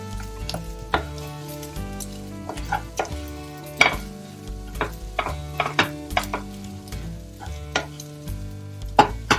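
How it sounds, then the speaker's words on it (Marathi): A filling for ulta vada is sautéed in a pan, soft sizzling under regular sharp scraping and tapping of a spoon against the pan, along with a steady low hum in the background. "छान परतून घ्यायचं."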